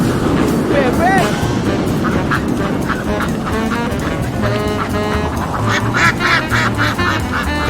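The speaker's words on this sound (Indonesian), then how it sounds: "Bebek." Ducks quack repeatedly in a loud, busy animated scene, with nasal calls bunched together and growing denser toward the end, mixed with voices and other game-like sounds.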